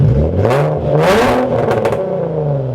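A car engine revs up to about 4000 rpm in quick, loud surges, each climbing in pitch and falling back, heard close and alone.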